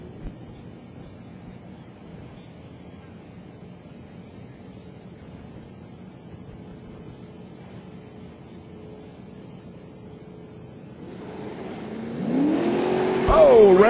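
Drag racing cars launch down an eighth-mile strip at the NMCA/NMRA Nitto Tire All-Star Nationals. A low, steady rumble runs for most of the stretch, then a loud engine roar swells sharply near the end.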